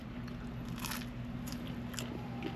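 Close, wet crunching and biting on grilled shrimp eaten on a Florida fishing trip, with a few sharp crunch bursts over steady chewing and no talking.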